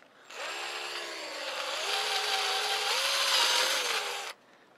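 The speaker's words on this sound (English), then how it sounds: "I'm going to try and drill this down the center here." A power drill bores into the center of a vintage Craftsman hose cap in one continuous four-second run. Its whine rises in pitch as it cuts, then stops abruptly, with no talking.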